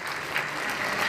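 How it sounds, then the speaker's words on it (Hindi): An audience claps loudly at an award ceremony for students of a Bhopal career institute, a dense, continuous round of applause with no voices over it. "जोरदार ताली से स्वागत करिए।"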